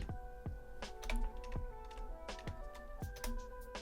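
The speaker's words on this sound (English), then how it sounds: "Just checking I'm typing these numbers in correctly" Numbers being entered on a computer keyboard: a steady run of distinct close key clicks with uneven rhythm and a few heavier thumps, heard alone without speech.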